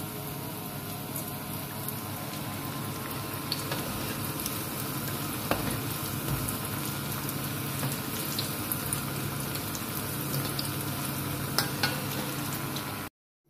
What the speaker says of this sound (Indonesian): Lanjut goreng bakwan jagungnya ya bun